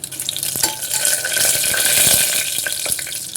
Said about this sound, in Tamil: தாளிப்புக்கு கடுகு உளுத்தம் பருப்பு நல்லா பொரிஞ்சிருச்சு